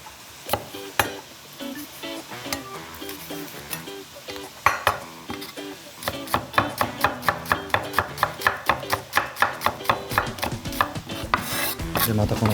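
A knife finely minces garlic on a cutting board, sparse chops at first then a fast steady run of sharp close taps, with faint sizzling from a pan in the background.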